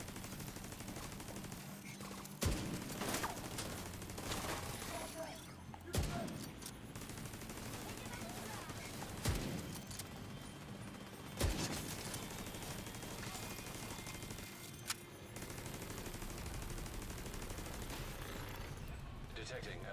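Turret gunfire in the video game The Division 2: a steady roar of automatic fire with sharp louder bursts recurring every few seconds, loud and continuous across the whole stretch.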